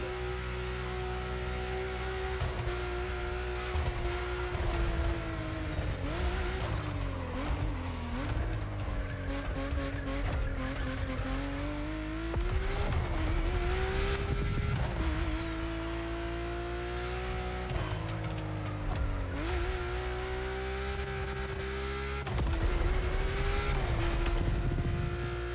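A BMW i8 Roadster in The Crew Motorfest drives hard for a long stretch, its engine droning and revving through repeated gear shifts, with tire squeals and skids between pulls and no voices.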